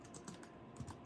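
Quiet typing on a computer keyboard, a few soft key taps over a faint background hum in a brief moment.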